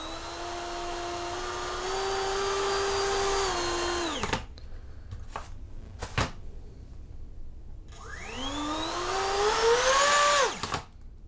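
Motors on a small 3D-printed hovercraft whine steadily at low throttle, then spin down, pause, and rev back up with a rising pitch before cutting off again. The sound is close and moderately loud.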